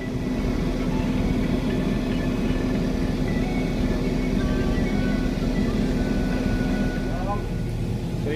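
Farm tractor engine running in a field while spraying seed potatoes against late blight, speeding up to 6.5 km/h; a loud, steady low drone with a constant hum fills the whole stretch, with a voice talking over it.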